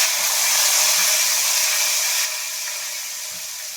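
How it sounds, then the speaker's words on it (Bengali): Onions fry in hot oil in a wok, a steady bright sizzling hiss that holds at one level and eases a little partway through, with no talking over it. "পেঁয়াজ দিয়ে পেঁয়াজটা আমি একটু ভেজে নেবো ভালো করে"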